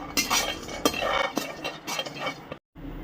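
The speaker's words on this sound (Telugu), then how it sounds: "పల్లీలని ఫ్రై చేసుకుందాం" Two spoonfuls of raw peanuts rattle and scrape in a hot pan as they are stirred and tossed, giving a run of close, dry clinks and scratches with a few sharper knocks and a brief quiet gap near the end.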